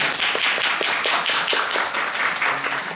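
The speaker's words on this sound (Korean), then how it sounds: "저희들도 큰 박수 보내드립니다." Rhythmic clapping from a theater audience at a Korean musical's final-performance curtain call and stage greeting, a steady round of claps filling the room with no talk over it.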